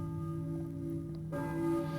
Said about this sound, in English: I hear a church bell, I think, but who is ringing it?